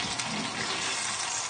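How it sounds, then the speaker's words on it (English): Chorizo and tomato chicken bubbling and sizzling in a pan, a steady close hiss and crackle that carries on without a break, with no voices. "Now it's starting to bubble, so I'm just going to turn the heat on."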